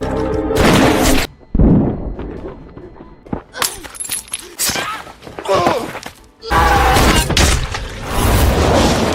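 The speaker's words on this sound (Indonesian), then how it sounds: "tembakan Stan pun meleset dari bidikannya." Loud gunshots and sharp bangs punctuate a tense action movie scene, with crashes and booming hits separated by brief quieter moments.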